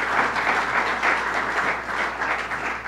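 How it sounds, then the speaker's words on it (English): Sustained audience applause at a New York State government announcement, a dense steady wash of many hands clapping with slight swells, fairly close and loud throughout, no voices over it. "Give them a round of applause."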